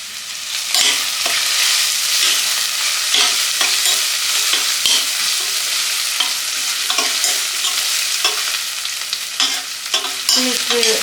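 Onions sauté in a pan for a lollipop biryani, a continuous bright sizzle broken by repeated scraping stir strokes, close and fairly loud with no talking.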